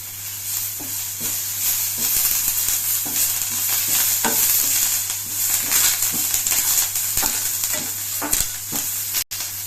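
Curry leaves crackle and sizzle in hot gingelly oil while turkey berry chutney is made, a steady close hiss of frying with the scrape and clack of a spoon stirring the pan throughout.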